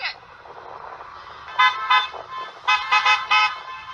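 Family members' cars roll past in a parade, sounding a series of loud horn toots in short bursts over a steady background rumble of passing traffic.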